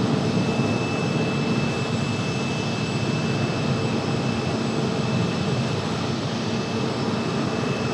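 A departing United airliner gives a steady, loud jet roar with broad rumble and hiss, holding constant throughout with no talk over it.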